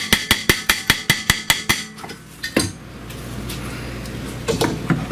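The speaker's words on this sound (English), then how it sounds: "let's try to tap it from the back side here" Repeated hammer taps on a stuck front brake rotor of a 2012 Dodge Grand Caravan, about nine sharp metallic strikes in quick rhythm, then a couple of louder isolated clanks and a lingering low rumble of shop noise.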